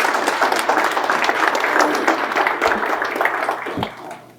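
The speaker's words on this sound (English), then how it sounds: "please give a round of applause to our CEO, Curtis Wynn" An evening district meeting audience of an energy cooperative applauds their CEO, a dense crowd of clapping that holds steady and then tapers off near the end.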